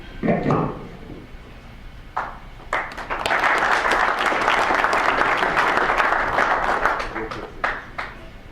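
Applause from the audience at the 2013 Club Car Southern California PGA annual meeting, a loud sustained wash of many hands clapping that swells for several seconds and then tapers, with a voice speaking at the start.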